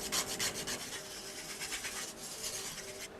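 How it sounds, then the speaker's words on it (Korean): A nail file shaping an acrylic nail extension in quick, close, rhythmic rasping strokes that scratch back and forth steadily. "뭐 길이가 짧으면은 그냥 파일로 갈아줘도 되지만 저는 길이가 좀 있으니까 네일 리퍼로 자르고 그리고 나서 모양을 다듬을게요"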